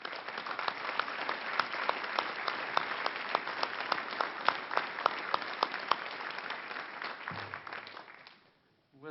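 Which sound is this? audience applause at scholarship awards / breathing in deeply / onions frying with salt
audience applause at scholarship awards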